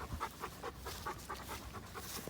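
A dog pants steadily in quick, rhythmic breaths close by, overexcited during a training session, with no talk over it.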